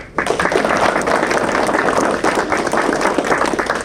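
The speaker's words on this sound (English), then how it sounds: "Round of applause for y'all too." A crowd at a ribbon-cutting ceremony applauds steadily, with dense, overlapping clapping that stays loud and even from start to finish.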